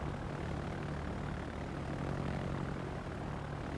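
Aircraft engines drone from planes launched in a naval battle video game, a steady, even propeller roar with no break.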